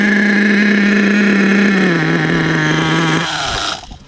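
An HPI Savage XL K5.9 nitro RC car engine, running on race fuel, screams loud and steady at high revs, dips in pitch, then cuts out and falls silent near the end.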